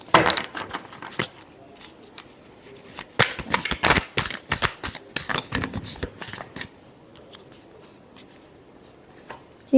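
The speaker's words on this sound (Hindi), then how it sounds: "लास्ट शफल करते हैं।" Tarot cards are shuffled in several close, crisp bursts of riffling and flicking, loudest around the middle, with quieter card handling between and no talking.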